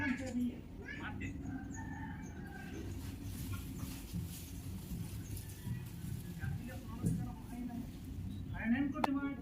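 Chickens cluck outdoors on a farm during coconut tree cutting, with short calls scattered under almost constant talk by nearby people.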